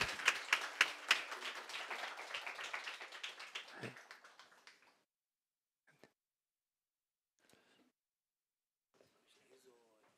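Church congregation applauding to welcome a guest minister at a Sunday service, a dense burst of many hands clapping for about five seconds that fades out, followed by sparse quiet taps and faint voices.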